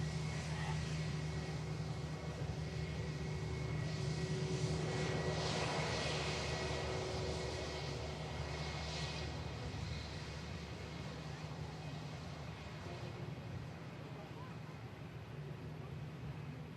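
A NetJets UK business jet arriving at Manchester Airport after a short flight from Oxford gives a steady, distant engine roar with a gentle swell mid-clip, heard faintly over continuous airport background noise.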